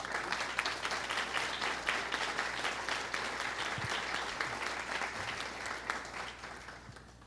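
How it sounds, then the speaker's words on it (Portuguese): An audience at an awards ceremony claps for the in-house anthropologists, producing a steady, even wash of applause that holds for several seconds at a moderate distance. "para quem peço uma salva de palmas"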